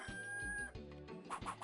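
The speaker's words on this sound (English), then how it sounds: "you can hear the rooster in the background" Rooster clucking in the video game 102 Dalmatians, a few quick repeated clucks over a busy musical background.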